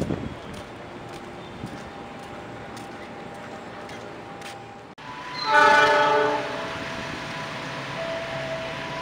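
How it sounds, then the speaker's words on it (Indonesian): A Walahar train rumbles steadily past Cikarang station, Indonesia, then a loud horn blares for about a second before the rolling noise continues. "di sebelah sana itu kereta api Walahar ya"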